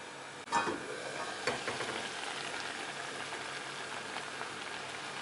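Pineapple curry (madhura pachadi) simmering and sizzling in a covered pan over a medium flame, a steady close hiss with faint crackle and a couple of soft knocks near the start, no voices.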